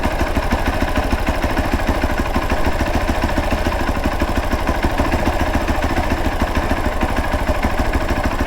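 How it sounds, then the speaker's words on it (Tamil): Hero Xpulse 200 motorcycle engine idling steadily, with a fast, even ticking tappet clatter riding over the low, close engine rumble throughout and no talking. "டேப்பிங் நாய்ஸ் வந்து அதிகமாகவே கேட்குது"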